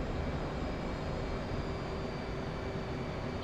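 A steady, dense jet-engine roar from an F/A-18C Hornet in the DCS flight simulator holds at an even level throughout while the throttle is eased back, with no talk over it.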